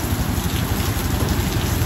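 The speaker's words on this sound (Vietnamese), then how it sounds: "Đang núp mưa ở trong một cái sạp bán trái cây. Mưa quá thì" Heavy rain pours down steadily onto a street beside a fruit stall at a market on Tô Hiến Thành Street in Nha Trang, a dense, even hiss and patter with a low rumble beneath, close and loud without pause.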